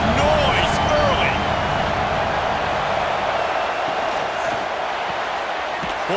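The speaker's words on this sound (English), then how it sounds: "This crowd bringing the energy and noise early." Dense stadium crowd roar in the College Football 26 video game, Vanderbilt Commodores versus Tennessee Volunteers, a steady loud wash of cheering that holds throughout with faint commentary underneath.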